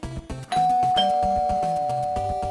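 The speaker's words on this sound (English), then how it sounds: "Also, when did we get a doorbell?" A doorbell rings loudly with a sustained chime tone over a bouncing chiptune melody from an NES game, the ring lingering as the music continues.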